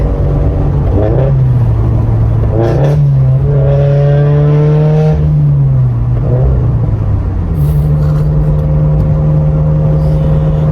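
A turbocharged Subaru BRZ with a Tomei 80R aftermarket exhaust roars loudly and continuously on the highway, rising in pitch as it accelerates, then dipping and climbing again with a deep, rumbling exhaust growl.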